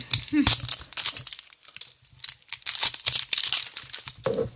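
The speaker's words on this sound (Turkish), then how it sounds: "Şimdi şu yumurtayı açıyorum." A foil-wrapped chocolate surprise egg is unwrapped, giving repeated close crinkling and tearing bursts of foil while a person talks over it.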